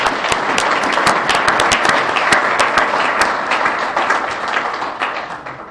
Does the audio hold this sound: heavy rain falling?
no